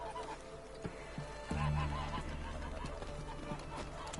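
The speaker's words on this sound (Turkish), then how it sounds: "Kaz var bırak burada." A goose in The Witcher 3: Hearts of Stone gives repeated honks, a short one near the start and a louder, sustained honking that runs on under the game's background ambience.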